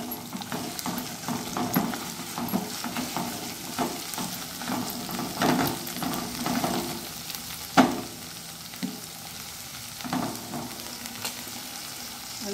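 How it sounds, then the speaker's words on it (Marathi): Ginger-garlic paste and green masala paste being stirred in a hot pan with onions while cooking rajma masala, a steady sizzle and frying hiss broken by repeated scraping and clinking strokes of the spoon against the pan. "त्याच्यावर अद्रक लसूणची पेस्ट आणि आपलं हे हिरवं केलेलं वाटण, असे दोन्ही परत आपण हलवून घेऊया."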